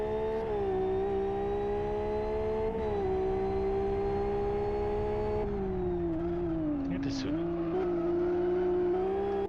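Caterham or Lotus race car engines drone steadily in the Live for Speed racing game, a continuous high whine that dips and rises with gear and throttle changes near a hairpin, with a brief tire squeal near the end.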